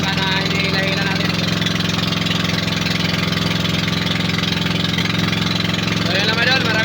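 A steady, droning motorboat engine at sea, towing another boat, runs continuously at close range, its low rumble unbroken throughout.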